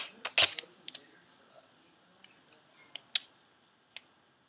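Tape is pulled from a roll while joining bottom pieces of a handmade purse: one sharp ripping burst, then a few light clicks and taps spaced out in a quiet room.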